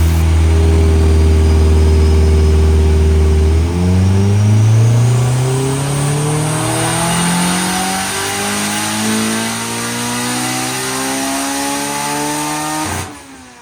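A 1995 Honda CRX with a built turbocharged B18 engine revs hard and loud up close, a long climbing roar that drops back once, then rises steadily again before cutting off abruptly.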